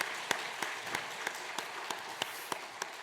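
A church congregation applauds during a Sunday worship service, a steady wash of many hands clapping from a distance, with a few louder individual claps standing out and no talk over it.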